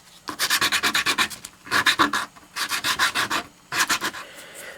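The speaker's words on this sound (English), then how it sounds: "Or you can use the sandpaper, whatever. I think I'll go ahead and use the sandpaper." Sandpaper rubbed by hand over the edges of small Rubik's cube pieces: four close bursts of quick, rhythmic scratchy strokes, each a run of several back-and-forth passes with short pauses between.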